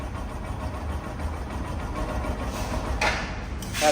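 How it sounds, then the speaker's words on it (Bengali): A showroom-condition 2024 motorcycle idles close by with a steady, even engine rumble, with a brief hiss or rattle near the end. "একদম মিষ্টি সাউন্ড তো বাইকটা"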